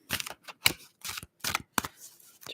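Tarot cards are shuffled in a series of quick, crisp riffles and taps, about seven short bursts separated by brief silences, close and fairly quiet.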